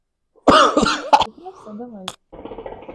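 A person coughs a few times in quick, harsh bursts after smoking, followed by a strained throat sound and a short voiced murmur.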